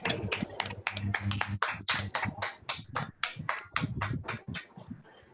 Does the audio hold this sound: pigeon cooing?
no